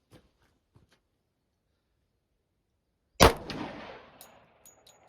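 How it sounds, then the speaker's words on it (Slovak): A single sharp, loud pistol shot from a handloaded 10mm Auto cartridge cracks at an outdoor range, followed by a fading echo and a few faint clicks. "Ďalší výstrel."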